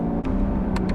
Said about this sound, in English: Wow, well, downshifts are pretty freaking instant